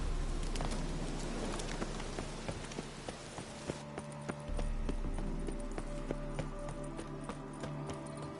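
Roach, the horse in The Witcher 3: Hearts of Stone, gallops in a steady rapid clip-clop of hooves, close and continuous, with a low game ambience underneath.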